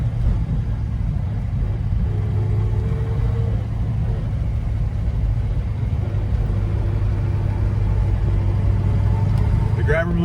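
A 1970 Ford Mustang Boss 429 rumbles steadily around a roundabout, its deep V8 drone loud and constant from inside the car, with the engine note rising and falling slightly through the turn.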